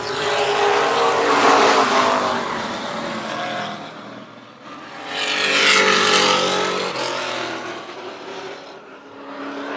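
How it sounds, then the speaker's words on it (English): Race cars in a WESCAR 100 event at Hythe Motor Speedway roar past in two loud swelling waves, engines droning as the pack goes by and fades between passes. "He will now battle side by side with the 69 of Colton Appler."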